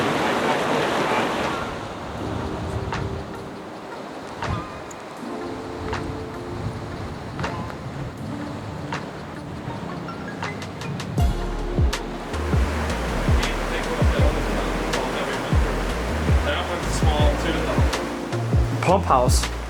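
A river rushes steadily in an abandoned Colorado ghost town, its broad wash of flowing water loud and continuous throughout, with wind buffeting the microphone and some clattering noises on top.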